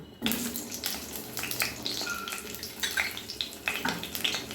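Potatoes fry in hot mustard oil in a wok, giving a steady crackling sizzle with scattered pops and spatters, close and fairly loud, with no talking.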